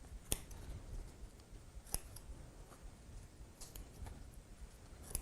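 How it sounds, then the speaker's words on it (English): Scissors snip out small triangles along a zigzag edge while trimming pieces for a Christmas ornament: a few faint, sharp clicks spaced a second or more apart over a quiet room hiss. "you gotta snip out the little triangles in the zigzag pattern."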